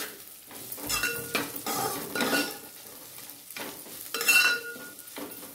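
Salt and turmeric are mixed into food in a bowl, making close, continuous scraping and squelching stir strokes in uneven bursts, with no voices.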